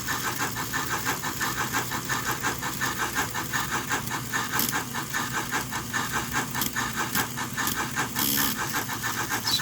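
An electric motor with a stripped, failing gear grinds steadily, giving a loud, even, rapidly pulsing whir that holds throughout, with no voices.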